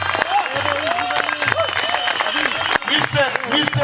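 An audience at a dog-breeding (FCI) gathering keeps up a steady wash of applause and crowd noise, while someone speaks loudly over it the whole time.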